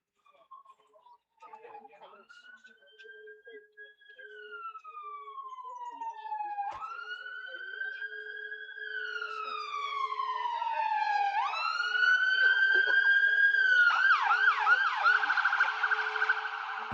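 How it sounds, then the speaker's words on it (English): A fire engine siren passing through a town on its way to the centre, starting faint and distant with slow wails and growing louder as it nears, shifting into fast yelping cycles toward the end, alone with no talk over it. "It was a fire engine heading for the town centre."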